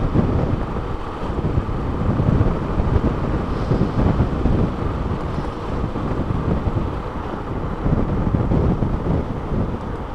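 Water rushing out of the Castanhão dam reservoir in Jaguaribara, Ceará, heard as a loud, steady low roar with heavy wind buffeting on the microphone, continuous throughout and with no talking.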